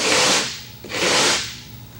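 A hard sanding block scrapes back and forth across a ridge on a homebuilt Rutan composite aircraft part in two long, close, gritty strokes with a brief pause between them.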